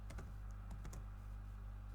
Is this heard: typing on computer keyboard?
yes